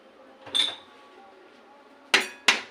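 A metal plate set down over a pot of boiling water, giving a soft clink and then two sharp ringing metallic clanks in quick succession, close and clear against a quiet background.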